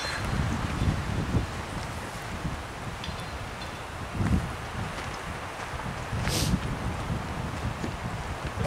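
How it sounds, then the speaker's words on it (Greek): Strong, cold north wind blowing outdoors, a dense rumbling roar with gusty bursts buffeting the microphone for the whole stretch, with no clear speech. "φυσάει βοριάς"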